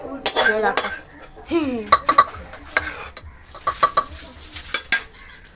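Mutton cooking in a pot at home during a birthday meal, with repeated clinks and scrapes of a utensil stirring against metal and a soft sizzle underneath, along with brief bursts of clatter and a short voice early on.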